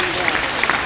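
Short burst of audience applause at a talk on Keysoul and an RCM business, with clapping heard alongside speech.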